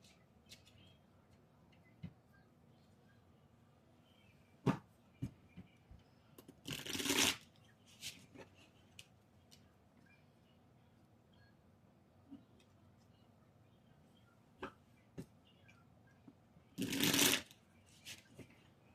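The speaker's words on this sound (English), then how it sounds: "I'm just gonna start by shuffling up the cards here." Two bursts of cards being riffled, several seconds apart, with scattered soft taps and clicks in between in a quiet room.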